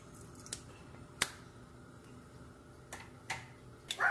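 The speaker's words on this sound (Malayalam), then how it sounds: "കടുക് പൊട്ടി വന്നിട്ടുണ്ട്" Mustard seeds splutter in hot coconut oil for Angamaly-style mango curry, with faint, scattered sharp pops and ticks breaking out irregularly over a quiet hiss.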